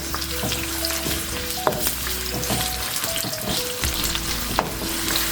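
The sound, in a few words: chopped onions frying with cardamom, bay leaf and cinnamon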